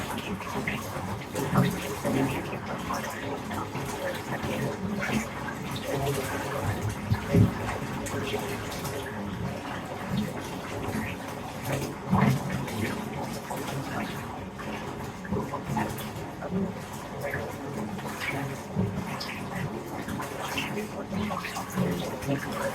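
Running water is swished about steadily for over twenty seconds, a continuous close gushing and sloshing with irregular louder surges and no pause.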